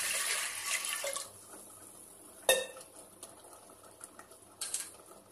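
Water is poured into a pressure cooker sitting on a gas stove while dalma is being made. A rushing splash lasts about a second, then a sharp metallic clank and a few lighter clinks of utensils follow.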